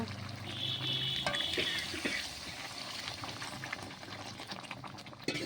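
Broth is poured into a pot of soft, hand-mixed beef curry, making a steady wet pouring and bubbling sound that is fairly loud and continuous, with no talking.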